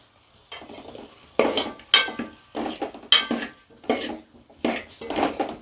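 A spoon scrapes and clinks against a pan while taro curry is stirred with turmeric, salt and chili powder. The strokes are rhythmic and close, about eight of them spaced roughly half a second apart, with no speech.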